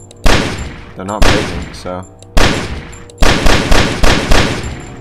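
Gunfire from the video game Only If rings out in loud, sharp bursts: several separate volleys, then a rapid string of shots near the end, with someone talking between the bursts.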